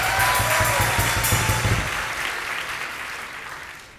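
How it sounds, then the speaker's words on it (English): Audience applause at a college talk, a steady wash of clapping from a crowd that gradually fades over a few seconds. "Big round of applause again."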